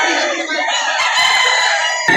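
Chickens and a rooster at a poultry market in Lipa City, Batangas, crowing and clucking loudly and continuously throughout, close by, with faint market murmur beneath.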